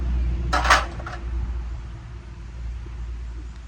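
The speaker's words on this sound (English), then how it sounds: "Bunch of vintage cake pans." Vintage metal cake pans and molds are handled at an estate sale, giving a brief metallic clatter early on, then quiet shuffling over a low background hum.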